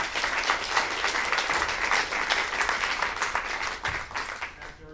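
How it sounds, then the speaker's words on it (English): A lecture audience gives a speaker on environmental history a round of applause, a crisp and fairly loud patter of many hands clapping continuously before tapering at the very end. "let's first give Erle an applause again for the discussion"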